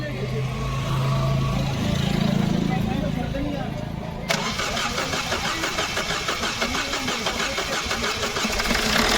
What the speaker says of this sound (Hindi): हो गई गाड़ी स्टार्ट हो गई।